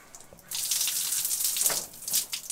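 A campsite shower room's shower turns on and water gushes steadily, fairly close and loud, then briefly dips before surging again, with no talk.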